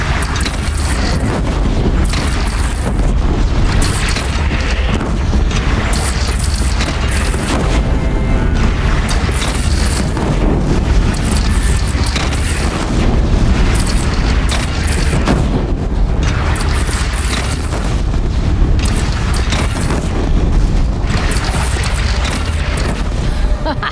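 Cannon fire and explosions thunder through a battle in Horizon Zero Dawn: heavy booms and blasts repeat loudly and almost without pause, with game dialogue voices mixed in.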